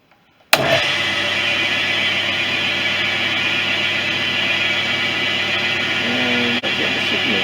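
Clarke CL430 lathe switches on suddenly and spins at about 1000 RPM, a steady close whine and hum with a brief dip near the end, no voices over it.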